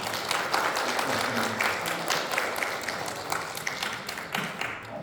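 Church congregation applauding to welcome a guest during a Sunday service, a steady wash of many hands clapping at moderate distance, sustained throughout without speech.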